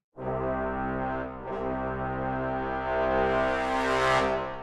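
A synthesized trombone plays one long, loud brass note that swells under mod wheel control, briefly dipping before growing brighter and raspier toward the top, then easing off.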